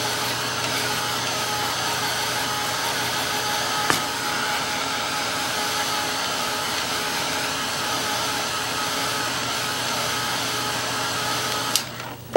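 A hair dryer blows steadily to dry acrylic paint on a cherries painting, a constant loud whooshing hum running unbroken and alone, with a couple of faint clicks.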